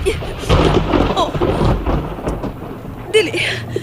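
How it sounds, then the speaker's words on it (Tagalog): A storm rolls in with low thunder rumbles and the hiss of rain, loud and turbulent throughout, with a sharper crack near the end. "May umaabot nga unos."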